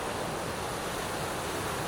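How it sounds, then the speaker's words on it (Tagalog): Strong ocean waves breaking on a beach by the West Philippine Sea in the early morning, a continuous loud roar of surf with no pauses. "Tignan nyo ang lalakas ng alon."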